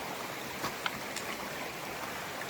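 A small creek on the Appalachian Trail rushes and trickles in a steady broadband wash, with a few faint splashes or steps as it is crossed.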